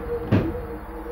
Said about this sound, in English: The last sound the witness heard was the exit door to the stairwell swing open, then close.